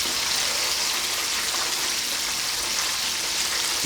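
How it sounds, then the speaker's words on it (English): Lamb chops sear in a hot pan in a Chinese chef's kitchen, giving an even, unbroken hiss of sizzling fat at constant loudness. "We will have to flip the lamb chops now."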